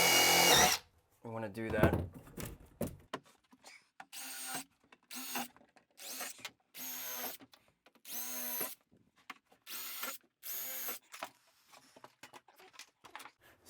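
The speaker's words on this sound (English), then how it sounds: "we're just going to drill a couple pilot holes into our flange" A power drill bores pilot holes into a toilet flange during a 1940s bathroom remodel, sounding in about eight short whirring bursts separated by pauses, close and loud, with a brief spoken remark near the start.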